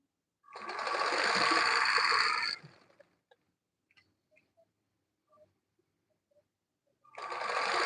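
A sewing machine runs steadily for about two seconds while stitching a dress. Faint clicks follow in a quiet gap, then the motor starts up again.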